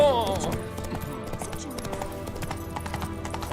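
Horse hooves clip-clop at a steady walking rhythm in the Witcher 3 game world, running throughout the clip under background game music and ambient sound, with voices heard talking.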